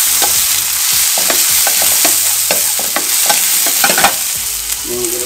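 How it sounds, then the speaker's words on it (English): Ginger sizzles loudly in a hot pan for sweet and sour pampano, a bright constant frying hiss broken by repeated close scrapes and taps of a spatula as it is stirred. "Ginger. Gonna saute this."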